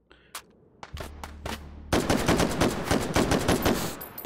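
Gunfire in the VR shooter Hot Dogs, Horseshoes & Hand Grenades starts as a few spaced single shots and then turns into a loud, sustained burst of rapid automatic fire.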